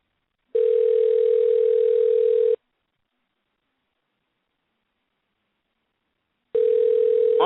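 A telephone ringback tone, heard on a call-in radio show while the line goes unanswered: two long, steady, fairly loud tone bursts separated by about four seconds of silence, with no voices.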